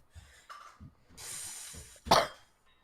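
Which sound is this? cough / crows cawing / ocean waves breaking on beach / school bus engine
cough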